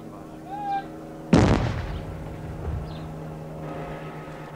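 A controlled explosion of suspected bomb bags in Ulster goes off as one sudden, loud, rumbling boom, which then decays into a long low rumble under background noise.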